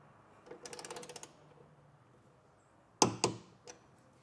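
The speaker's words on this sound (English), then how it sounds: "I am going to take my torque wrench, use the torque setting found in the instruction manual" Torque wrench tightening a bolt on a sliding truck bed ladder rack fitted to a 2024 Chevrolet, a quiet burst of rapid ratchet clicks followed by two louder sharp clicks, heard close with no talk.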